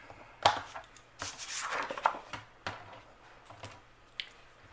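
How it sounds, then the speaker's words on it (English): Scoring tool pressed and drawn across a cut 12 by 7.5 book cover board, giving several close, short scraping and crunching strokes with small taps between them, no voices. "is I score it."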